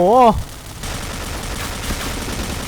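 Rapid Racamo gunfire in the video game Point Blank, a dense stream of shots after a brief burst of voice at the start, steady and fairly loud throughout.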